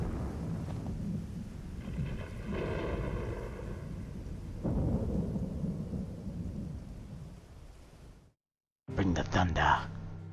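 Deep rolling thunder from the video game Final Fantasy XVI, loud and sustained for several seconds with a person talking over it, then a brief silence before another sharp crackling burst.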